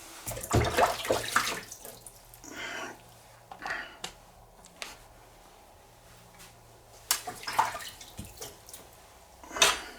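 Tap water splashing over a Japanese natural whetstone as it is rinsed, in several short gushes and drips separated by quiet gaps, close and with no talk.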